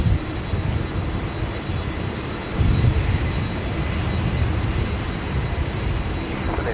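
Qantas jet airliner taxiing at Sydney Airport, a steady broad engine roar heard from a distance with a faint high whine, swelling slightly partway through, and no voices.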